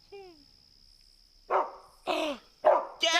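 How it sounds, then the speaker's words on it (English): A dog barks four times in quick succession, sharp and close, after a brief whimpering yelp at the start, with a high steady tone running underneath. "That's a dog!"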